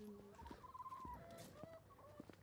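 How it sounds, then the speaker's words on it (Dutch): Several chickens cluck softly nearby on a farm, with short rising and falling calls scattered over a quiet background. "Daar zijn de kippen."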